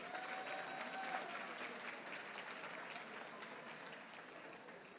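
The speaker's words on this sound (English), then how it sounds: "Can we have a big round of applause for all of them, please?" Applause from an awards ceremony audience honouring student service and leadership winners, a steady, dense wash of many hands clapping that stays even and fairly distant for about five seconds.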